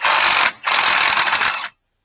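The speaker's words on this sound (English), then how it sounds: "My socket sets that go on to this, I have to put them in the right direction so they snap on." A Craftsman socket being fitted onto a ratchet, with rapid mechanical clicking in two close, loud bursts separated by a brief pause, then silence.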